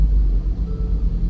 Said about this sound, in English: Go ahead and start the car up.